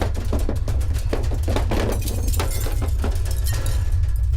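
Glass shatters and breaks in a dense, continuous run of crashes and tinkling fragments over a steady low rumble, loud and close, with no voices, suggesting debris from an earthquake.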